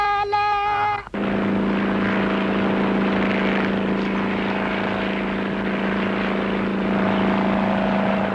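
A steady aircraft engine drone with a low tonal hum holds loud and continuous after a short musical opening, filling the rest of a Telugu movie scene without any speech over it.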